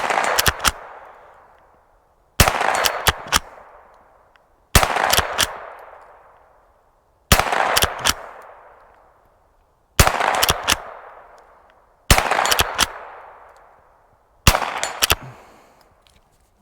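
Rossi gallery .22lr rifle with a wooden stock fired at a range, seven sharp close cracks spaced about two seconds apart, each followed by a brief decaying echo, no talk.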